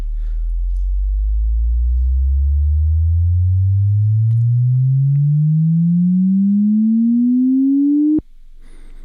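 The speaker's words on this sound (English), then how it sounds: "I can even hear that on my headphones, that low sub bass." A loud synth riser glides steadily upward from deep sub bass as a pure sine-like sweep over about eight seconds, then cuts off abruptly with a brief click.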